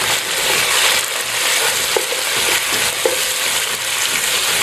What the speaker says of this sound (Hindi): इसको हमने 2-3 मिनट तक भूनना है गोश्त को इसके अंदर